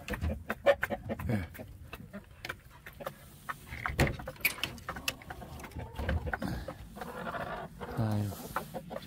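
Chickens cluck and murmur inside a small coop at a relative's house on Geoje Island, scattered close clucks over rustling and shuffling, with a person briefly speaking.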